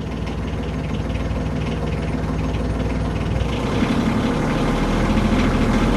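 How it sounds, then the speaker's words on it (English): A car engine runs steadily at idle and rises slightly in revs during an alternator voltage test, a continuous close mechanical rumble with no one talking. "We now have the engine running. We're going to rev it up a little to excite it."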